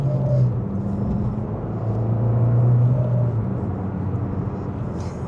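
A modified 230bhp Abarth driving in sports mode, heard from inside as a steady low engine drone and road rumble that swells slightly mid-way, with no talk over it.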